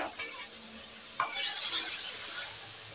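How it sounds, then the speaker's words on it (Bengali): Masala for a dhaba-style mutton kasha with potato fries and is stirred in a pan, giving a couple of quick scrapes and clinks over a steady, fairly loud sizzle; no one speaks. "ভালো করে মশলাটাকে কষিয়ে নেব। দেখুন, মশলা থেকে তেল ছেড়ে দিয়েছে, আরেকটু কষিয়ে নেব।"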